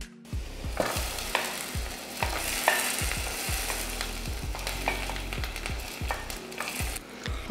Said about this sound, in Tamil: முந்திரி திராட்சையை வறுத்து இப்போ பாயசத்தில் ஊற்றியாச்சு